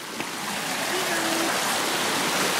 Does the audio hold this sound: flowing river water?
yes